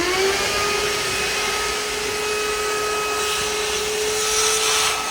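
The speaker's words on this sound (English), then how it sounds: "I've got a vacuum here." A vacuum cleaner runs continuously, sucking sand out with a steady, close whine and a whooshing airflow that stays nearly constant throughout.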